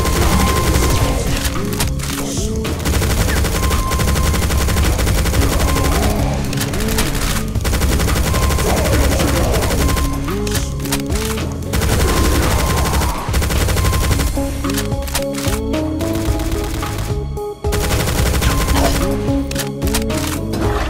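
Sustained machine-gun fire and explosive booms from enemy gunners in the brutal Doom mod Project Brutality, Final Doom TNT: Evilution Steel Works level, loud and nearly continuous rapid bursts with short gaps.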